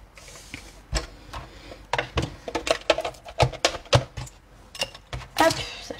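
A card-making die-cutting machine cuts out a card piece for a Stampin' Up elephant card, giving a series of close, irregular clicks, taps and mechanical knocks.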